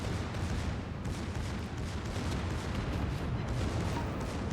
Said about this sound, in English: those are secondaries going off